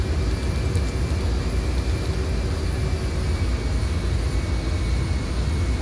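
A steady, loud roar of jet engines during takeoff in an Embraer 170/195 flight simulator, a continuous broadband rumble with no breaks and no voices over it.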